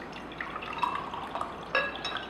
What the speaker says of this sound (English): I'm going to use a bottle of oil, which is sesame oil. I'm going to actually put some oil here.